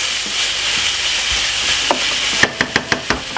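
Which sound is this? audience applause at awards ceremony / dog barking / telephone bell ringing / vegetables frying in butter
vegetables frying in butter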